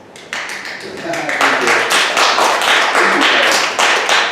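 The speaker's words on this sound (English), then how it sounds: "I honestly didn't expect a round of applause" Audience applause for a speaker at a marketing leaders talk event, a dense burst of claps building quickly and holding steady and fairly loud, with voices mixed in underneath.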